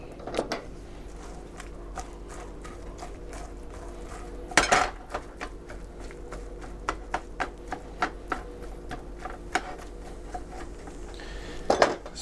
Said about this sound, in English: These eggs need to be removed from the heat and swirled around a little bit.